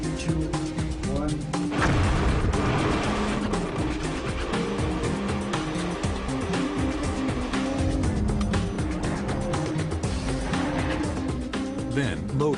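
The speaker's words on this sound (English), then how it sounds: "Ten seconds to main blast." A main production blast at a magnetite iron ore mine gives a loud, sustained rumbling roar that persists across the whole stretch, broad and heavy without distinct separate bangs.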